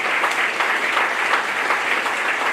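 A school moving-up ceremony audience claps for the Safety Patrol students, a dense, steady round of applause from a crowd that stays even and full for the whole stretch.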